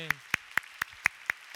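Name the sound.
church congregation clapping in praise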